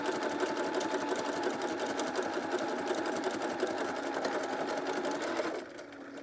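A sewing machine stitches a tight zigzag seam, running at a steady, continuous whir close by, then easing off to a quieter hum just before the end.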